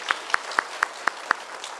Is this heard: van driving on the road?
no